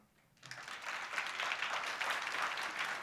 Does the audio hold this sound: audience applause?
yes